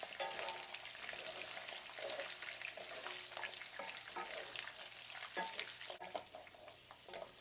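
Sweet and sour short ribs fry steadily in oil and sugar over low heat, a dense continuous sizzle with scattered crackles and pops and occasional stirring scrapes, close and alone with no voices.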